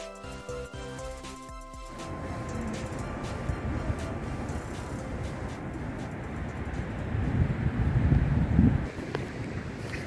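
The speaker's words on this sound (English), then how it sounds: "It's a windy day, but we love the outdoors." Wind rumbles and buffets the microphone, starting quiet and building into stronger gusts toward the end, with no voices.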